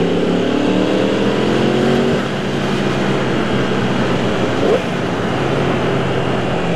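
A car engine labours at low revs while driving in too high a gear, a loud, steady, heavy drone with a low rumble from inside the vehicle and a brief bump near the end.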